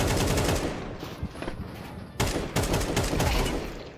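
Rapid gunfire in Counter-Strike 2, dense bursts of automatic shots crackling almost continuously and loud, with a brief lull before renewed firing.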